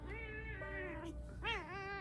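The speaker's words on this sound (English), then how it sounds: "Here's my cat." A cat meows unhappily while being picked up, giving a few drawn-out, wavering complaints up close over a steady background hum.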